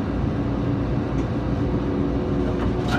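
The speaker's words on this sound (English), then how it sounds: "The train is departing. Please hold on while the train is moving." Airport AirTrain at Newark Liberty International pulls away, a steady rumbling hum of the rail car rolling along with a faint high whine, continuous and close, without voices.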